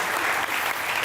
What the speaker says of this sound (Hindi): बहुत तालियां होनी चाहिए।